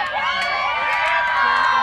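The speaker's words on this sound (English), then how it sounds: "And the crowd goes wild." A crowd at a high school girls' lacrosse game, Roland Park against Severn, erupts in loud, sustained cheering and shrill whoops right after a goal, continuous for the whole stretch.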